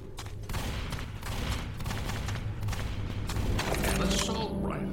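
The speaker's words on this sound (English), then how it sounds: "Assault rifle." An assault rifle in Left 4 Dead fires in dense bursts over a busy rumbling game soundscape on the Escape from Toronto map, sustained rapid shots with brief pauses.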